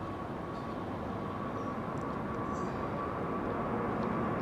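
A Virgin Airbus A330neo departing Heathrow runway 09R, a steady continuous jet engine roar that swells slightly louder toward the end, with no voices.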